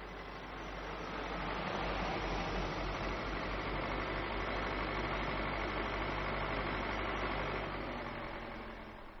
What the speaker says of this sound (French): le fervent pèlerin croisera tout de même sur sa route un camion qui transporte du bois.